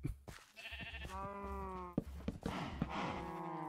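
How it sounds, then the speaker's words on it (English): Cows mooing in the Minecraft video game, drawn-out lowing calls that overlap, close and fairly loud, with no talking. "look how much more room you cows are gonna have now"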